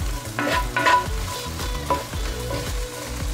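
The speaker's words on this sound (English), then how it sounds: "Now we're getting some sizzle going here." Onions and peppers sizzle and hiss steadily in a hot pan, with repeated scraping stirs cutting through the frying noise.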